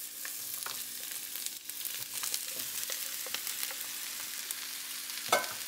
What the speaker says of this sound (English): we're going to add our stir fry vegetables. Hear it sizzle.